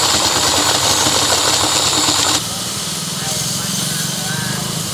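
A power sprayer SC22 driven by a 1/4 HP electric motor runs with a steady, loud mechanical hum and hiss that drops abruptly to a lower, quieter drone about halfway through.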